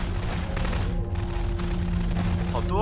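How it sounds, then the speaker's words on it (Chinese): Gunfire in a Garry's Mod horror hide-and-seek match, rapid continuous shots rattling over a heavy low rumble, close and loud throughout, with a voice cutting in near the end. "我一直对着老艾开枪"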